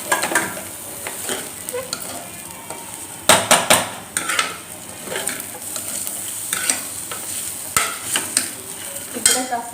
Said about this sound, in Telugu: ఇలా అయ్యాక పచ్చిమిర్చి, మామిడికాయ ముక్కలు వేసేసుకుంటాం.